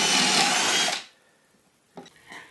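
A Milwaukee cordless drill bores a hole into a soft wooden 2x4, a loud steady whine lasting about a second before cutting off, followed by quieter clicks and handling noises.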